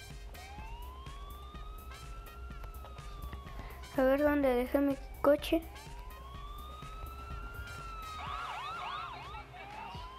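Police car siren in Grand Theft Auto IV, a rising and falling wail sweeping in the background through most of the stretch, with a voice speaking briefly over it midway and faint chirps near the end.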